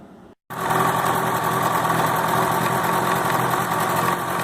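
A 1977/75 Mercury outboard engine runs steadily after a brief cut, a loud, even, buzzing drone with constant vibration and no talk.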